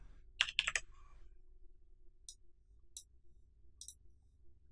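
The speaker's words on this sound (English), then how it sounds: "So let me type in the code." Quiet, close keyboard typing: a quick burst of several key clicks, then three isolated light taps spaced about a second apart in a hushed room.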